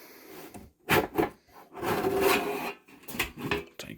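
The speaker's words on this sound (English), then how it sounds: "I can just literally pull this back" Cover of a Unifi Aggregation Pro 32-port SFP+ network switch being pulled off after its screws are removed, with several close scraping and sliding bursts of metal rubbing, irregular and moderately loud.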